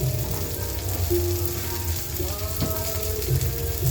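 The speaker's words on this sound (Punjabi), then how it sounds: "ਮੈਂ ਕਿਹਾ ਪਹਿਲਾਂ ਸਬਜ਼ੀ ਨੂੰ ਤੜਕਾ ਲਾ ਲਾਂ" Vegetables sizzle steadily as a tadka is poured over them, giving a close, continuous fry with a rain-like crackle that runs throughout with no talk.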